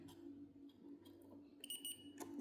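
Continuity beep from a multimeter probing a circuit strip on an Opel Rekord 3.8i CD V6 instrument cluster, with a steady tone stretching about a second, then a second short beep after a pause, over a low hum.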